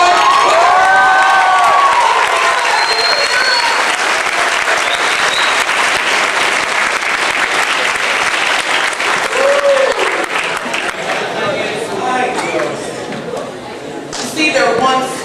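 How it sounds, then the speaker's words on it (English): Teen audience at a conference breaking into loud, sustained applause with cheers and shouts, a big crowd roar that thins toward the end, with some voices rising through it. "We have to clap for Judge Sonia"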